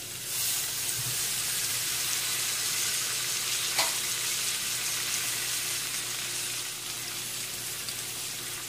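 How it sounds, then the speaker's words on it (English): Garlic, white onions and tomatoes sauté in a pan, giving a steady, close sizzle that runs unbroken throughout, with a faint clink partway through and no talking. "First, we're going to saute our garlic. White onions. And tomatoes."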